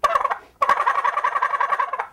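A hand-held turkey gobble call used for hunting, shaken to give two rapid rattling gobbles, a short burst and then a longer trilling run, loud and close with no voices.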